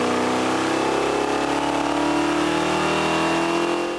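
A bracket race engine built from repurposed parts runs loud and steady on a dyno while starving for fuel, its droning roar climbing slightly in pitch over four seconds with no voices.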